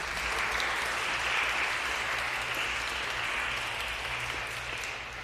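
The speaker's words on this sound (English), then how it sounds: "can we get a round of applause for our wonderful panel?" Audience clapping for a panel at a church event, dense sustained applause filling the room at steady loudness, easing slightly at the end.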